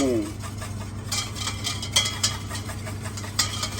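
Homemade mayonnaise with vinegar being whisked in a bowl by hand: a soft, steady scraping and swishing of the whisk, with light clinks against the bowl, running over a low constant hum.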